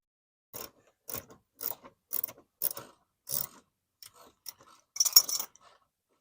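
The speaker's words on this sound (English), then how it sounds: "I'm going to take off all these screws, and then we'll screw on the new one" Screws being removed from the front lip of a 2019-up Toyota Corolla hatchback, heard as about ten short, close bursts of mechanical ratcheting and clicking separated by brief silences.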